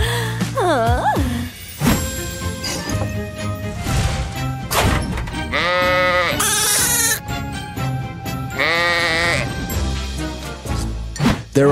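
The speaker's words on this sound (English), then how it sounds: "There are sheep here." Cartoon sheep bleat several times in wavering, quivering calls, loud and close, mixed with a thump and crash, narration and a lively musical backing.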